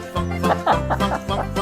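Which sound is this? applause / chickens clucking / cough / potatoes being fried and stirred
chickens clucking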